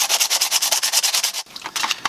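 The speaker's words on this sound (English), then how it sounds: "Just sit there and just start sanding away." Sandpaper rubs paint off a plastic Nerf Hammershot blaster in quick, rhythmic back-and-forth strokes, close and loud, with a brief pause before the strokes resume unevenly.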